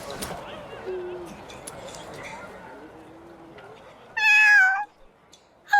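Cat meowing in the video game Duet Night Abyss, one short clear meow near the end, following soft background game sounds and faint voice activity.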